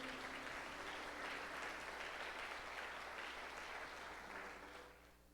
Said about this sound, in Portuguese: aplauda o Senhor aí no seu lugar